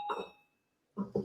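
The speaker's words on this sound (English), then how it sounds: "It's a bell and a singing bowl." A bell and a singing bowl are struck, giving a bright, sustained ring that fades away over about half a second before voices begin talking.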